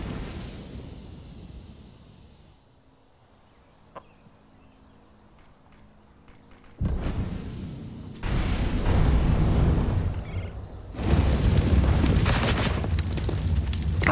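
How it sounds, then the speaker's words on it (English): A grenade goes off in a professional Counter-Strike match, followed by a sequence of heavy booming bursts that grow louder, with a broad rumble of blasts filling the last few seconds. "a great grenade to do some devastating damage onto ZywOo"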